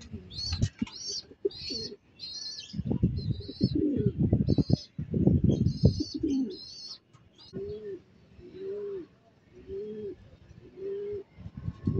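Pigeons coo in a steady run of low, rounded calls, joined by small birds chirping in bright, repeated bursts close by at a Filipino bird loft, with brief flutters of movement between calls.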